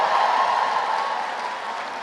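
Steady applause from an audience at a dance gala, a dense even patter of clapping that holds at a consistent level throughout, with a broad crowd wash and no speech over it.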